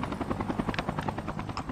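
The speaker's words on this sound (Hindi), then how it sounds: "अरे हेलीकॉप्टर आया भाई।" A helicopter in the Call of Duty video game thumps overhead with loud, rapid rotor beats and a buzzing whine, pulsing steadily throughout.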